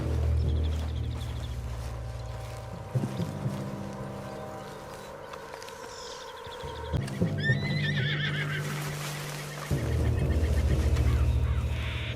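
A horse in Red Dead Redemption 2 whinnies sharply several times amid steady hoof clip-clop and a low rumbling game soundtrack; no one speaks.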